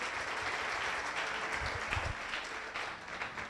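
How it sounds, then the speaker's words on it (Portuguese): A crowd applauds steadily throughout, a dense wash of clapping that swells slightly in the middle, heard in a large room. "Uma salva de palmas a Jesus."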